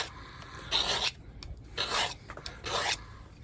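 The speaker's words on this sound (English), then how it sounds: "Now, it would be sensible just to sharpen this up a little bit. So I'm going to do that on a file." A hand-knapped stone arrowhead is sharpened on a metal file in three rasping strokes, each lasting a fraction of a second, with quiet gaps between them. The strokes are close and fairly soft.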